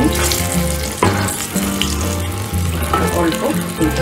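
Eggplant pieces frying in hot oil, a loud, close, continuous crackling sizzle with occasional stirring clatter and shifting bursts throughout.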